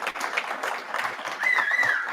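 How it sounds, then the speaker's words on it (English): An audience at a political caucus gathering in Utica, New York claps in a brief, moderately close round of applause, with a faint whistle-like tone briefly rising over the clapping. "clap now if you want to, so people know people are here"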